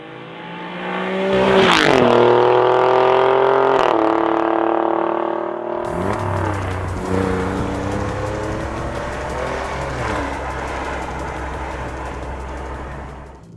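An Alfa Romeo Giulia Quadrifoglio accelerates hard, engine note climbing through rising gears with a sharp shift crack, then a deeper rumble as it pulls away, loud and close.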